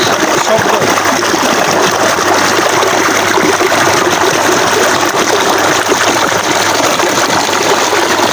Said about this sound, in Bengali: শব্দ প্রচুর স্রোত ভালো লাগছে আমার কাছে প্রচুর স্রোত